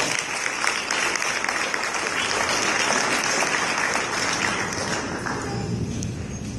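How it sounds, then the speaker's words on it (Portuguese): Audience applause on a comedy stage, dense sustained clapping from a crowd that holds steady and then thins slightly near the end, with no speech over it. "Uma salva de palmas para ele, pessoal."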